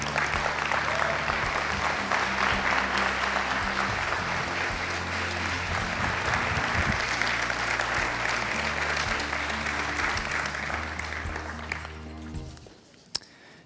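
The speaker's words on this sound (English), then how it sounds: "Let's give them a big round of applause." An audience at a Hall of Fame ceremony applauds the current inductees as they rise: dense, steady clapping that holds for about twelve seconds over low background tones, then fades out.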